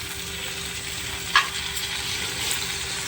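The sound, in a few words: stirring tomato and sauces in frying pan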